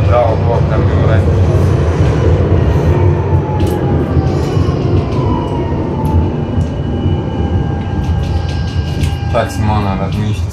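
A Zagreb tram rumbles past at close range in a steady, loud roll with occasional metallic squeals and clanks from the rails, while someone talks over it.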